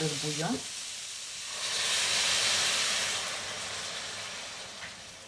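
Broth is poured into a hot pan for a noodle dish and bursts into a loud, steady hiss of steam and sizzle that swells and then slowly fades. A voice speaks briefly just before it.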